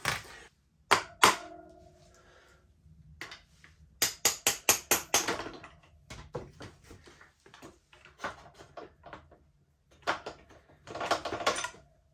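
Sharp metallic taps set a part into place during a Timbersled snow-bike kit install on a 2021 Kawasaki KX450X, heard as scattered single knocks and then a rapid burst of about six close, loud strikes, with a few more later.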